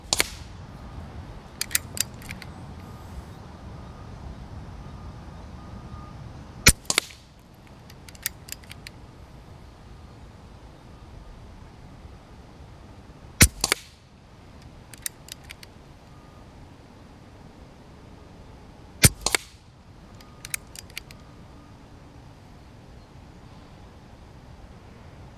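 AEA HPSS .25 caliber air rifle firing at a target about 43 yards away, four sharp, loud cracks spaced several seconds apart, each followed by lighter clicks and mechanical handling between shots.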